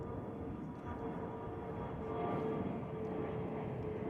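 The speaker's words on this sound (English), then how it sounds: "This is a 737-800 coming in from Hayden, Colorado, American Flight 2616. It's coming in for a landing on runway 36 left" A Boeing 737-800 airliner on approach to land at DFW Airport gives a steady, broad roar that swells slightly midway, heard at a distance and without talking.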